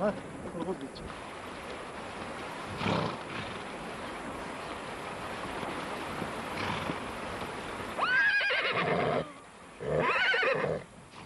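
A Mongolian horse whinnies twice near the end, loud and close, after a stretch of wind-like background noise with brief rustling, in the Western Altai of Bayan-Ölgii.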